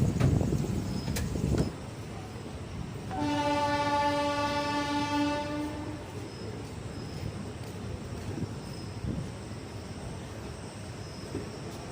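An Indian passenger train at a station sounds a loud horn for a few seconds amid rumbling rail and platform ambience, with the low murmur continuing after the horn stops.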